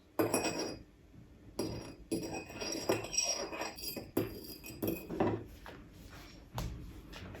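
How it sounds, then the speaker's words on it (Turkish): A mixture is stirred in a glass during a home science experiment, the utensil clinking against the sides in irregular close taps and scrapes, with some louder knocks, alone without talk. "Da karıştırıyoruz."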